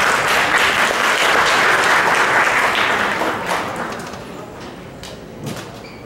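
Students at a school lecture applaud in a large hall, with loud, dense clapping that gradually thins and fades over several seconds, then a few scattered claps and thuds.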